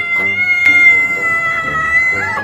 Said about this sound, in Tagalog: challenge natin yung mga pusa ngayon. Pahabaan sila ng ngiyaw.